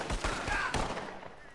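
Revolver gunshots in a Red Dead Online duel, video game: a few sharp close shots in rapid succession, each leaving a reverberant tail that fades out.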